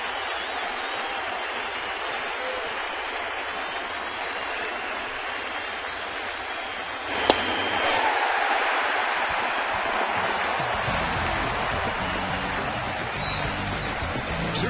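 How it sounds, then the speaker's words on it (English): Baseball stadium crowd at ALCS Game 5 roars in a broad, sustained wash of cheering and applause, swelling after a sharp crack midway and staying loud throughout. "And here comes the crowd."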